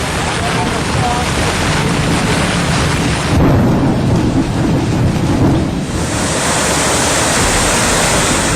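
Heavy monsoon rain pouring down amid flooding, a loud roaring downpour with deep rumbling like thunder swelling in the middle before easing back to a steady torrent.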